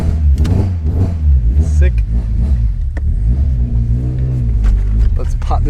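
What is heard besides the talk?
Toyota KE70 4AGE car engine starting and revving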